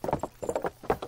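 Horse hooves clip-clop in Kingdom Come Deliverance, a brisk, close, rhythmic run of hoofbeats in quick clusters with no talk over them.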